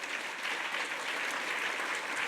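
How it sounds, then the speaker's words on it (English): A symposium audience gives a round of applause for Connie and the leaders in the room, a thick, uniform roar of clapping from many people that holds steady and fairly loud throughout. "Let's give another round of applause for Connie"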